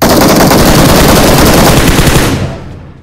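Loud, rapid automatic gunfire in the video game PUBG Mobile rattles close and continuously for over two seconds, then stops and fades out.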